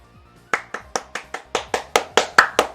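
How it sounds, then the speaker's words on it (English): A video game's applause effect plays as a run of about ten distinct, evenly spaced handclaps, crisp and close, each one sharp and quickly decaying, starting after a short quiet moment. "those watching delivered a round of applause"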